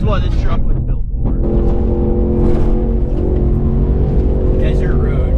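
An overlanding truck drives a desert trail on the Pony Express route toward Sand Hollow, its engine humming loud and steady, rising briefly as it accelerates, with someone talking over it.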